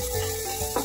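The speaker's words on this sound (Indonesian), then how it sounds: "sembari saya goreng kentang ya, sudah mau matang" Potatoes frying in a pan at home, with a steady close sizzle and crackle running throughout and a brief stir or scrape near the end.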